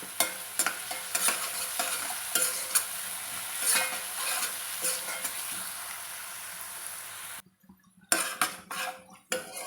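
Sliced onions fry in a pan with a pinch of salt for a meal maker tomato curry, a steady sizzle punctuated by repeated spatula scrapes and stirs, cutting out briefly before resuming with louder clatters.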